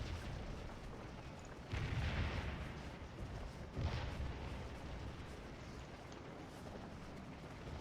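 Cannon fire in the Civil War battle game Scourge of War: Gettysburg, two deep booms a couple of seconds apart rolling over a steady low battlefield rumble, without talking.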